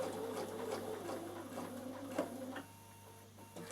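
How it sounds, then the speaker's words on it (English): A Bernina sewing machine runs quietly while stitching fabric, giving a soft, steady mechanical whir and patter under a constant low hum, then slowing and pausing toward the end. "I'm going to sew as far as I can before I want to stop."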